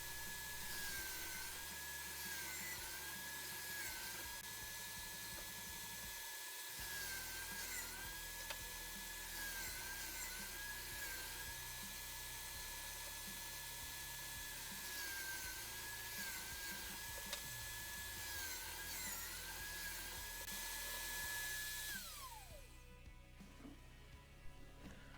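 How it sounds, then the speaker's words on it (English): A router spinning in a router table rounds the edges of square wooden pieces, a steady high whine with faint cutting rasps that winds down at the end. "I installed my router table to prepare the square pieces for the mounting jig."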